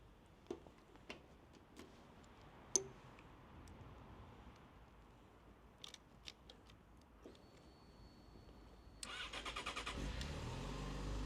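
Faint scattered clicks and ticks give way to a Yamaha FZ6S motorcycle engine, about 11,000 km on it, turning over and catching, then settling into a steady, close, quiet idle.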